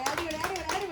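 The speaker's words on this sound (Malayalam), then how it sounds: "എല്ലാവരും കൈയടിച്ച് പ്രോത്സാഹിപ്പിക്കുക." Several people clap together to cheer on a children's race at a family Onam celebration, quick hand claps sounding close behind a voice that talks over them throughout.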